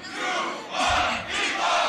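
A concert crowd at a beatbox show chants back in unison on cue. Two or three loud, surging group shouts rise and fall across the clip.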